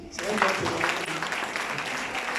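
A church congregation applauds during a sermon, steady, close clapping filling the room with voices mixed in beneath it.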